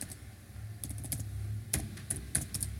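Someone types a git command on a computer keyboard during a git revert and cherry-pick tutorial, with a few sparse keystrokes followed by a quicker cluster of close, crisp clicks, no talking.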